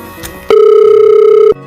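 Telephone tone after a call is hung up, a single loud steady electronic beep lasting about a second, preceded by a brief click.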